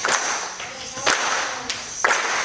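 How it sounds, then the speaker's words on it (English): An audience claps along with a spiritual song about the Underground Railroad: a few sharp, evenly spaced hand claps, nearby, heard through a voice. "So I need some support with your clapping, your your hands"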